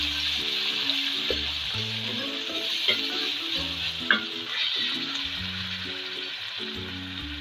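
Ginger-garlic paste and tomato frying in a pan on top of lightly browned onions, giving a soft steady sizzle with occasional stirring clicks, moderately close, while gentle background music plays throughout.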